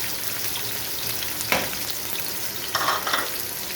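Onions frying in hot ghee, a steady loud sizzle throughout with a couple of brief stirring scrapes and no voices.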